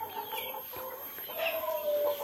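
Free-range village chickens cluck and chatter nearby in a short burst of overlapping calls, with a thin high tone running underneath.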